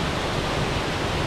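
Cathedral Falls waterfall in a snowy forest produces a dense, steady roar of rushing water, loud and close, with no other sounds.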